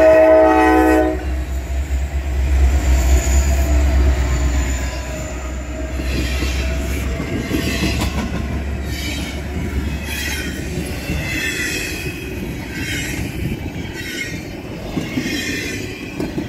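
An SD60E diesel locomotive train passing nearby, opening with a loud horn blast and then a long steady rumble of wheels and railcars with faint squealing, continuous and without voices.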